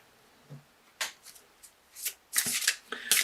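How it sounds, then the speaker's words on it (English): A Crystal Wisdom Healing Oracle card deck by Judy Hall being shuffled close up, with a few soft riffles and then quicker, louder bursts of cards slapping and sliding together, and no voices. "So let's do a Crystal Wisdom Healing Oracle card for you by Judy Hall for an additional message"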